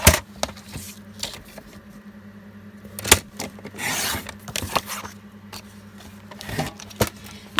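A sheet of A4 paper is cut for a craft photo book, giving close scraping, rasping strokes and a few sharp clicks and taps in an irregular rhythm, with no talk.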